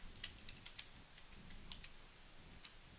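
Keys clatter on a computer keyboard as login credentials are entered, quiet scattered clicks in short bursts with a few sharper taps over faint room hum.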